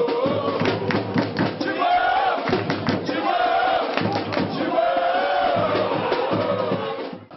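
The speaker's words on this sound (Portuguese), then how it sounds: "E a torcida não parou de cantar em nenhum momento." Corinthians football fans chanting and singing in a crowd celebrating in Goiânia, a loud continuous roar of massed voices with rhythmic shouts and thumps.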